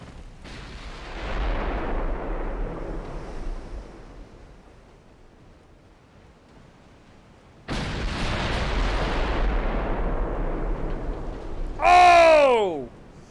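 A 15-inch naval gun on a Solus-class warship fires in a naval battle game. There are two heavy booming blasts with long rolling rumbles, followed by a loud whistling, descending tone at the end.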